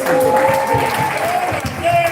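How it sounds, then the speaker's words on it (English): An audience at a creators' meet-up event in Ghana applauds in a dense, steady round of clapping with voices and tones mixed underneath. "a round of applause for his people"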